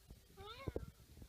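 A human voice imitates a cat's meow with one short, rising-then-falling mew, followed by a few soft thumps and brief vocal sounds nearby.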